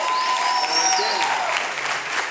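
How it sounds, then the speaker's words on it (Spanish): A studio audience on a Venezuelan talk show claps in steady, dense applause with tonal sounds running beneath it. "un aplauso para César Farías"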